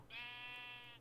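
A single sheep bleats in the video game Minecraft, one bright, quavering, fairly faint call that lasts just under a second over a quiet background hum.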